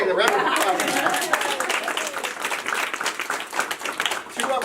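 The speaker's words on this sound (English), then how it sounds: "Round of applause" An audience at a pitch competition breaks into steady applause, dense clapping filling the room for several seconds with a few voices mixed in.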